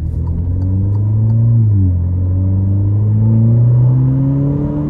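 Alfa Romeo Giulia accelerating hard in dynamic mode, its engine note rising steadily as the transmission holds each gear, with a brief dip at one shift before the revs climb again; loud, continuous, heard from inside the cabin.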